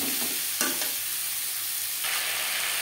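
Potatoes with salt and turmeric stirred in a frying pan for a fish curry with green banana, a steady soft sizzle with a few brief scraping strokes near the start and a faint rise toward the end, close and without talk.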